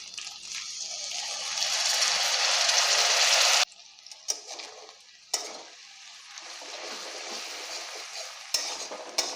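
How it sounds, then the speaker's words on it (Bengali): Water poured into frying spice paste of ginger and garlic for a prawn curry, a loud hiss and sizzle that drops sharply, then softer scraping stirring with occasional clinks. "এবারে মশলাতে অল্প পরিমাণ জল দিয়ে দেব।"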